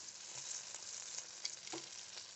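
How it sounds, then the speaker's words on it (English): Chicken wings sizzle inside an air fryer at 400 degrees, a steady soft hiss of frying fat dotted with tiny pops and crackles, faint and alone with no talking. "Listen to that sizzle."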